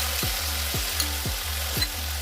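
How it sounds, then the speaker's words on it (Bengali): Onions and capsicum frying in a pan: a steady sizzle with rhythmic stirring strokes about twice a second. "পেঁয়াজ ক্যাপসিকাম হালকা ভাজা হয়ে গেছে, এরপরে সসটা অ্যাড করে দেবো"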